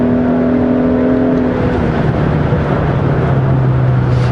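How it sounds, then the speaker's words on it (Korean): A Hyundai Sonata N Line engine revs hard on a race circuit, loud, its pitch climbing and then dropping as it shifts, with road and wind noise underneath. "지금 엔진 사운드가 굉장히 강하게 이제 밀려드는 것을 볼 수가 있죠"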